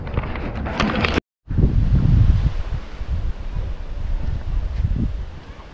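Wind blows outdoors and buffets the microphone with a rumbling, gusty roar, briefly cut out near the start and then continuing steadily.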